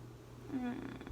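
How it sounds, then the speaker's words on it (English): A house cat purrs close by in a quiet room, a soft, low rumble lasting about a second with a faint murmur alongside. "Don't purr. I need to do a video. No purring."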